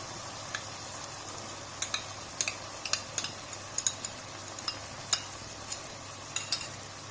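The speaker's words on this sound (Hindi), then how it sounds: "सबको एक बार मिला लेंगे अच्छे से।" Paneer chilli being stirred in a pan after vinegar and tomato sauce go in, with a spoon clinking sharply against the metal in irregular taps over a soft, steady background hiss.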